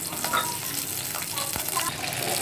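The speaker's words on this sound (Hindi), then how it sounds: "तेल जब गर्म हो जाएगा तो हम इसमें डालेंगे प्याज" Onions fry in hot oil in a pan, giving a dense, continuous close-up sizzle with light stirring scrapes throughout and no speech.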